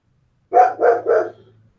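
A dog barks three times in quick succession at gardeners working nearby, loud and close, with a low steady hum beneath and a short tail of fading sound after the last bark.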